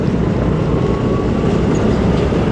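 Train at Hazrat Nizamuddin railway junction in Delhi, India, giving a steady loud rumble of rolling wheels with faint clickety-clack and a thin squeal, close by and continuous, with no voices.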